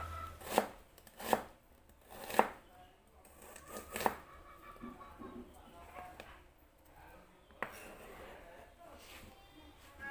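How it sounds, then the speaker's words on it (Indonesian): A knife slices half an onion lengthwise on a board. Four distinct, crisp cuts sound close, followed by fainter cutting, while someone talks quietly throughout. "ini aku gunakan separuh bawang bombay diiris panjang."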